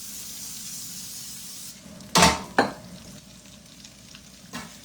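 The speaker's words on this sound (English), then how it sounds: "We're going to spray our pan." Cooking spray hitting a hot griddle while crab cakes are being made, two short sharp hissing sprays close up over a faint background sizzle, followed by a softer spray a moment later.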